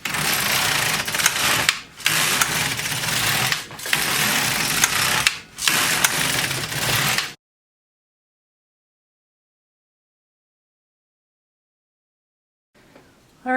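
An LK150 knitting machine carriage is pushed back and forth across the needle bed, making long steady rasping swishes broken by brief pauses at each row end, close and loud, followed by silence.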